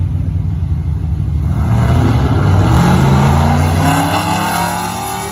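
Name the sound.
drag racing slick tire cars accelerating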